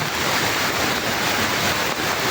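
Floodwater rushes past a newly built bridge, fed by tributary streams from both sides, a steady loud broadband roar with wind buffeting the microphone and no voices.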